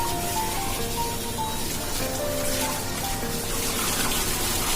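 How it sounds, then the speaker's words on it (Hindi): Water streams steadily and close by as wet hair is squeezed out with both hands after a hair mask is rinsed, a continuous gushing splash with no pauses. "मैं किस तरह से दोनों हाथों से बालों को दाबते हुए पानी निकाल रही हूँ"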